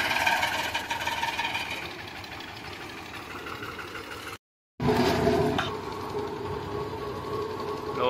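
A tractor engine runs steadily at a tube well boring site, a constant mechanical drone with knocking texture that cuts out briefly midway and then returns louder, with no talking over it.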